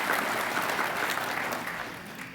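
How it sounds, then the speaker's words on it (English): Applause at a police academy graduation ceremony, a crowd clapping steadily for a couple of seconds and tapering off slightly toward the end. "A little applause for all those folks."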